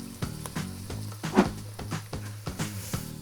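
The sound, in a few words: garlic sauteing in melted butter with onion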